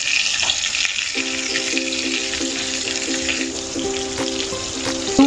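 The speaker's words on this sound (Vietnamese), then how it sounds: "Chúng ta rán lửa nhỏ thôi để cho thịt chín nhé." Meat-stuffed eggplant frying in oil over low heat gives a steady, close sizzle and crackle that runs throughout, with a faint repeating clatter near the pan and no voices.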